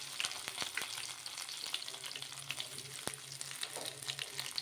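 Mustard seeds, cumin and garlic frying in hot oil make a soft, continuous crackle with scattered small pops and a faint stir, heard up close with no voices.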